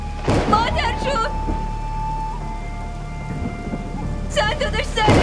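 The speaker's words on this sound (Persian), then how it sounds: "فرهان بارون شدید داره میباره، طوفان اومده." Heavy rain pours steadily with rolls of thunder in a storm, while people talk in bursts over the downpour near the start and end.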